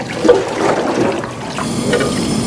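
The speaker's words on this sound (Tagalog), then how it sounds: "Tapos, tapon na natin yung tubig." Water from washing eggs for salted eggs is tipped out of a container, a loud close gush and splash pouring steadily for a couple of seconds with no talk.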